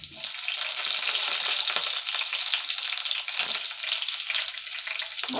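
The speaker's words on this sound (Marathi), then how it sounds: "यामध्येच मी मिरची टाकून घेते" Garlic and green chilies fry in hot oil in a pan, giving a loud, continuous, close crackling sizzle that holds steady throughout with no talking.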